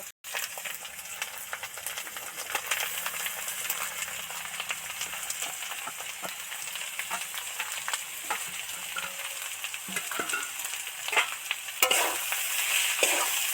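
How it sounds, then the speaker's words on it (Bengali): Ground soybean paste being stirred with potatoes and spices in an oily pan, a long steady sizzle with scattered spatters and occasional utensil scrapes, close and without voices. "দু চার মিনিট নেড়ে ফেড়ে ভালো করে মিশিয়ে দিচ্ছি"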